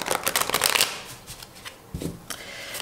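Tarot cards being shuffled before a reading: a quick flurry of crisp, riffling card snaps up close, then lighter scattered slides and taps, with no talking.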